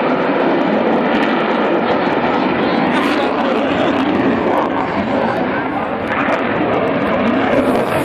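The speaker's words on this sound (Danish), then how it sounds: "Han flyver på hovedet!" A stunt aircraft flies upside down at an air show in Roskilde, Denmark, its engine a loud continuous roar close overhead while excited spectators talk.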